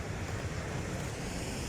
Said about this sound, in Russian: Вон там какие волны.